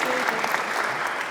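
Brief burst of steady audience applause at a community event, dense and fairly close for just over a second.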